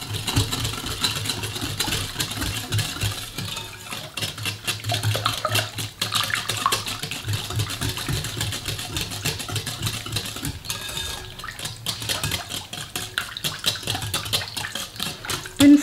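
An electric mixer whirs steadily through butter, sugar and vanilla sugar, a continuous mid-pitched motor drone running the whole time with slight wobbles as the blend thickens.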